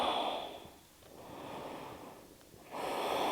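Slow, deep breaths during a gentle mobility routine for beginners and seniors, a soft inhale and exhale cycle repeating twice, quiet and close with no talking.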